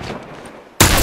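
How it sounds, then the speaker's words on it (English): A hunting rifle fires in The Last of Us Remastered: a quiet, murmuring stretch gives way to one sudden, loud gunshot blast that rings on to the end. "Hey, look out, he's got rifle!"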